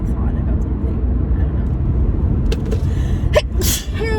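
A single sharp sneeze bursts out near the end over a steady low rumble of background noise.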